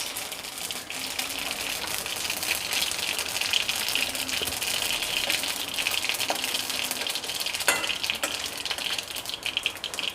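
Mustard seeds and red chilies sizzle and crackle in hot oil as a South Indian rice ball snack is seasoned, a steady, dense hiss with scattered pops throughout.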